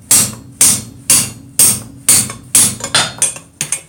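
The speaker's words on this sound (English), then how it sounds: "I am doing all my hammering to where I'm hitting to just the off side of the hole" Hammer blows on hot steel as a blacksmith drifts the hole in a pair of pick-up tongs, about eight sharp ringing strikes at a steady rhythm, loud and close with no talk.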